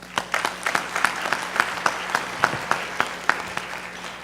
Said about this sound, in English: Let us welcome elected directors with a warm applause.